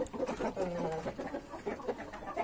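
A dark Polish breed hen clucks softly in a backyard flock pen, a few short, low murmuring clucks repeated unevenly at close range with no talk over them.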